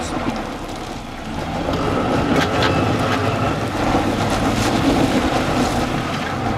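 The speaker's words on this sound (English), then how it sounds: "Now the Jeep tries to take a solid right to drive around the deep holes" A Jeep Grand Cherokee works through deep potholes in very soft soil, producing a steady, loud engine rumble with broadband road noise that swells slightly partway through and holds continuously, with no talking.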